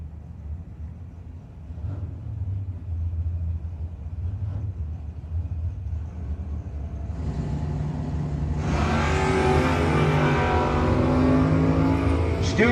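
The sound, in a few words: drag race launch, 1980 Malibu versus 1964 Chevelle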